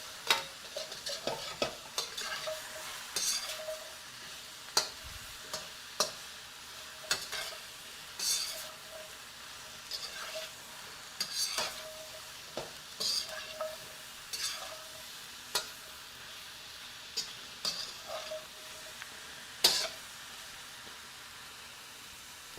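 Sauce deglazing a hot pan during chili mac and chicken stir fry meal prep, a continuous soft sizzle broken by frequent scraping, clinking utensil strokes in an irregular stirring rhythm, close and fairly quiet, no talking.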